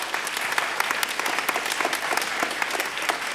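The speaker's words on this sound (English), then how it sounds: "let's give them a big round of applause" A theatre audience gives a big round of applause to student actors after a school production of The Cherry Orchard, with steady, dense clapping and sharp individual claps popping through.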